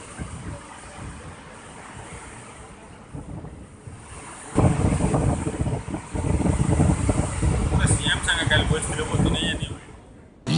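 Broad, roaring rush of fast-flowing water from the open gates of Hirakud Dam, with heavy wind buffeting, growing louder midway and continuing unbroken.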